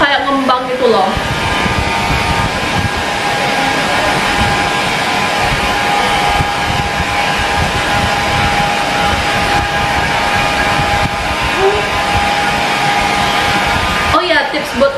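A hair dryer blows hair dry in a steady, loud whoosh that holds for the whole stretch, with brief shifts in pitch near the start and end as the airflow is moved.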